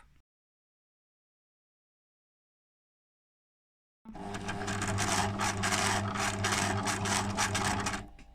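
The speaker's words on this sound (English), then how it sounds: "Stitch a few stitches backwards, let go of your reverse lever and stitch the last few forward" A sewing machine starts after about four seconds of silence and runs steadily stitching backwards with the reverse lever held, a loud, close, continuous whirring hum with a fast rapid needle chatter until it stops near the end.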